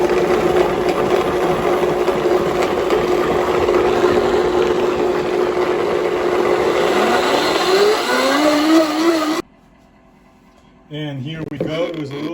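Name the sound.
blender blending cooked vegan soup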